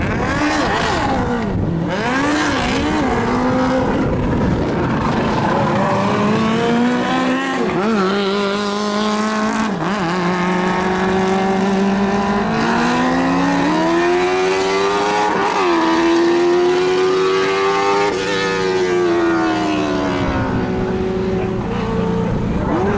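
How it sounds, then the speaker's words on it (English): Open-wheel race cars in a heat at the TTASA circuit, engines loud and continuous as they rise and fall through revs and gear changes, several cars overlapping near and passing. "This open wheel heat is underway, ladies and gentlemen."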